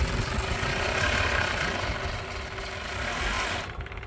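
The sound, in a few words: overlock sewing machine stitching a strap edge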